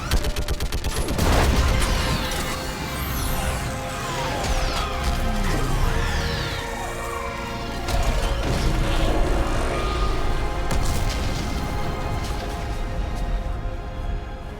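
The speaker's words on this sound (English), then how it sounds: "I need an orbital strike." Orbital strike explosions hit a live Reaper in Mass Effect 3, a loud, sustained barrage of blasts, crashes and mechanical impacts with sweeping streaks of sound and no pause across the whole stretch.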